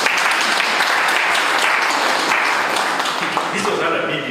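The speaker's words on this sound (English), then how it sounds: "Can you give me a big hand clap?" A crowd at a motivational talk breaks into sustained, loud applause, a dense wash of many hands clapping that holds steady and tapers slightly near the end.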